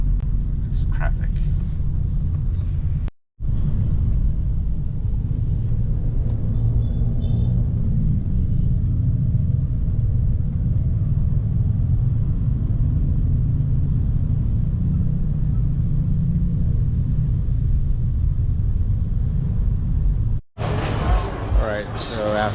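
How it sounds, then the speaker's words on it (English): Heavy road traffic in Jakarta heard from inside a vehicle, a loud continuous low rumble of engines and tyres, with short breaks where the sound cuts out and brief louder noises at the start and end. "We are in Jakarta, and as usual, it's traffic."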